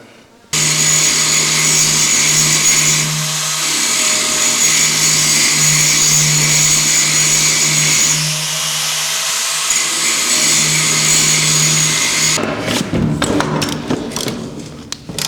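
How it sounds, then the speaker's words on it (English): A grinder runs steadily on a workpiece, a loud, sustained whine with shifting pitch for about twelve seconds, close up, then cuts off and leaves scattered knocks and handling noise. "So at this stage, I'll just grind this, see if this works."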